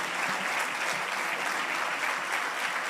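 A church congregation applauding during a Sunday service, dense sustained clapping filling the room evenly, loud and close, with no talk over it.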